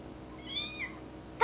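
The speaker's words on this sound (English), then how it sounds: "She's a ginger cat with green eyes." A ginger cat with green eyes meows softly in a quiet room, a single faint drawn-out call followed by a second brief one, then a short sharp sound at the very end.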